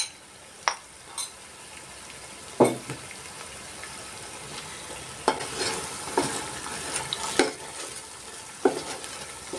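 Curry spice paste for mee rebus sizzles steadily in a hot pan, broken by several sharp scraping stirs at irregular intervals, close and fairly loud.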